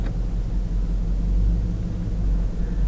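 Deep steady engine rumble from a Jeep Wrangler JK fitted with an LS 6.2 V8 and Tremec six-speed manual, a loud low drone heard from inside as it pulls away, with no talking.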